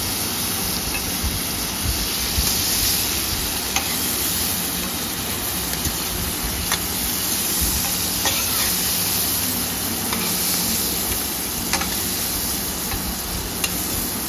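Prawns frying in hot oil, giving a loud, dense, continuous sizzle with occasional sharper spits and crackles, heard up close with no voices.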